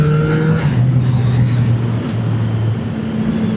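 CF Moto motorcycle engine running close and loud, a steady low drone with pitch that shifts as it revs up and eases off over a few seconds, without any talk.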